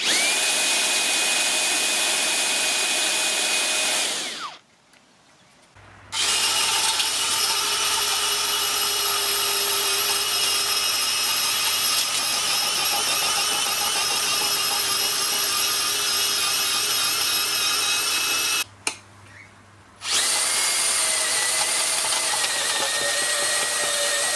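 A Makita 40-volt earth auger drills into the ground with a loud, steady motor whine that runs, stops briefly, then resumes and stops again near the end, close and with no voices.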